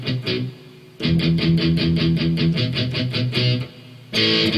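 Palm-muted distorted electric guitar plays a song slowly, a loud run of tight, evenly spaced chugging strums. A held chord rings at the start, and the chugs break off briefly before a final open chord rings out.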